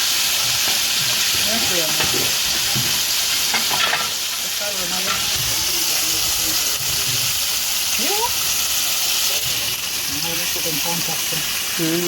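Chicken frying in oil over an outdoor coal fire, a loud continuous sizzle and hiss throughout with occasional stirring, voices talking faintly underneath.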